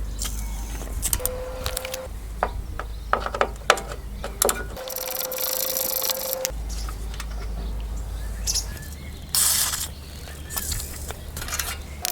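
A ratchet works loose T30 screws on the front bumper base mount of a 1999–2007 Skoda Fabia Mk1, giving repeated close clicking bursts separated by short pauses, with no talking.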